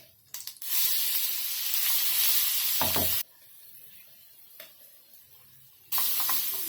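Cumin and mustard seeds crackle and sizzle loudly in hot oil, a bright steady hiss broken by a brief dip near the middle and resuming at the end, with no voices.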